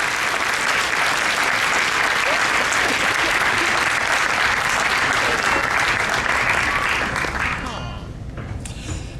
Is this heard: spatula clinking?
no